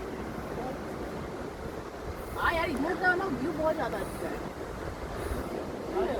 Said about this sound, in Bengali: নীলচে সবুজ কালচে সবুজ সমুদ্র, সমুদ্রের ঢেউ আছড়ে পড়ছে